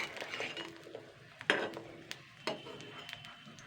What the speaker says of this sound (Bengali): এক সাইড করে ভাজা হবে, এবার আমি অন্য সাইডে উল্টে পাল্টে দেবো।